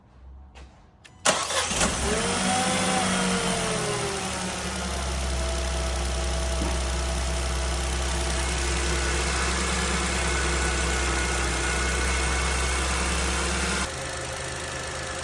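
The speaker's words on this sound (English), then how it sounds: "we just want to hear the car running first, so let's start it up and see how it sounds" Renault Clio TCE 0.9 petrol engine, in a workshop before a timing chain replacement, cranks briefly, fires and settles into a steady close idle that runs smoothly for over ten seconds, then drops slightly in level near the end.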